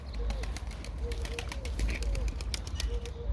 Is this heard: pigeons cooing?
yes